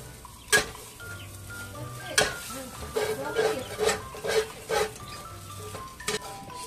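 Rice with cabbage, carrots and soy sauce stir-fried in a pan: steady sizzling with repeated scraping and stirring strokes against the pan, close by, with no talk.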